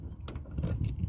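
Keys for a 1965 Daimler jangle in a short, close metallic rattle over a low background rumble.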